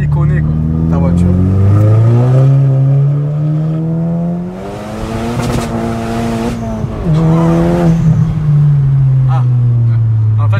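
A 400 hp stage 2+ Volkswagen Polo R WRC accelerates hard, its engine revving loudly through rising gears with a brief drop between shifts and possible tire squeal, close and dominant.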